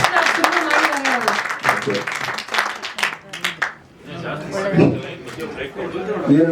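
Scattered clapping at a film teaser launch event, sharp hand claps rising and fading beneath a person talking loudly nearby.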